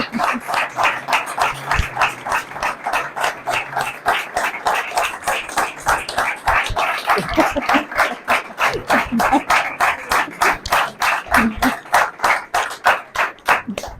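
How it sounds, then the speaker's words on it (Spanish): A lecture audience at a Hispanic history talk claps in a long, steady burst of applause, dense rhythmic hand claps sustained for many seconds, fairly loud and close, with a few faint voices underneath. "ha sido de los aplausos más largos que hemos tenido en los Juegos Hispanófilos"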